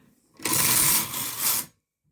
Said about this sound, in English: slide the lever